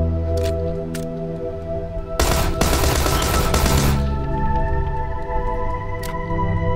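Tommy gun firing in the PUBG video game, a dense burst of automatic gunfire lasting about two seconds, loud over steady game music and ambience.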